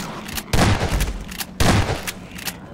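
Gunfire in a Garry's Mod horror map, two loud heavy bursts of shots about a second apart with quieter echoing noise between them.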